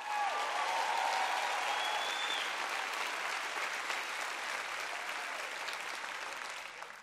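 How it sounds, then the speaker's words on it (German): An audience applauds: dense, sustained clapping from a crowd at a live talk, loud at first and easing slightly toward the end, with no speech over it. "Na los, ihr könnt doch lauter klatschen."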